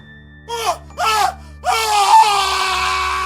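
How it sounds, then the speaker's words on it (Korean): A man's pained screams and wails in a Joseon-era horror tale, three anguished cries in a row, the last one long and drawn out, loud and close, with no talk over them. "돌쇠는 고통스러운 비명을 질렀다."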